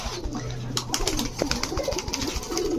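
A large male Indian Kaldom pigeon coos close by in a soft, low, throaty burst over a short stretch, with faint background clatter.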